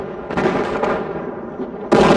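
Battle noise from Battlefield 4 during an attack helicopter match, a dense rumbling burst of blasts and gunfire that swells loudly, holds steady, then surges again into a sharp, bright explosion near the end.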